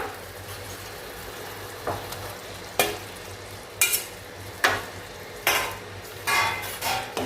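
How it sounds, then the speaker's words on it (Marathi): Eggs dropped one at a time into hot masala with ghee and curd for egg biryani, a continuous close sizzle broken by several sharp hissing bursts and scraping stirs at regular intervals, with no talking. "आपण एक एक करून आपली अंडी यात घालूया"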